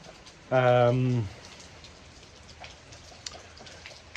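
Heavy rain from a thunderstorm pours down around a house being restored in Italy, a dense continuous patter on surfaces with an occasional sharper drop, after a short stretch of someone talking.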